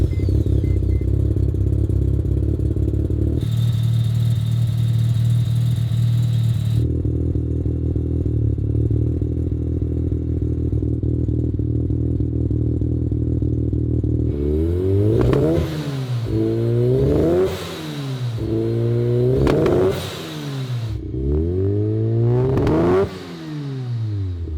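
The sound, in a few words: four-rotor rotary engine car revving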